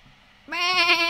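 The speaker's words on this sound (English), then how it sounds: "That is not a horse. That is a lamb." A lamb in the Star Stable horse-riding video game lets out a single loud, wavering bleat that cuts in sharply halfway through, following a quiet stretch of low ambient game background.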